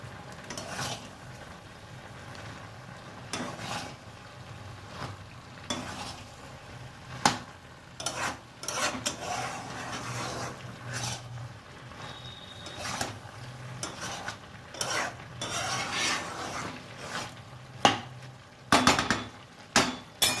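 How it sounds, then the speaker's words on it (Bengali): Malabar spinach cooking with shrimp in a pot being stirred, uneven scraping and clanking of a utensil against the metal pot with a soft simmer underneath, sharper knocks coming in bursts toward the end, close and without talk. "একটু এটা নেড়ে দেবো।"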